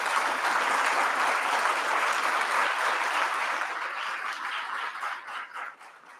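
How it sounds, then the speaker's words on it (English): Dense, sustained applause from an audience at a supply chain summit award presentation, loud and even throughout before thinning and fading toward the end. "let's give a very big round of applause to my team"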